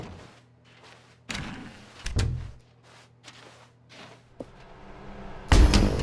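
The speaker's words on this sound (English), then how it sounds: "When Stanley and the bucket came to a set of 2 open doors, they entered the door on the left" In The Stanley Parable: Ultra Deluxe, doors thud and slam shut in a few sharp, close impacts spaced seconds apart over a quiet indoor hum, the last hit loudest.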